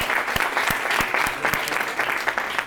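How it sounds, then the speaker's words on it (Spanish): Audience at a vocational culture forum bursts into steady, dense applause, sustained clapping from a mid-sized crowd heard clearly throughout. "por favor, nuevamente un fuerte aplauso para Eliana"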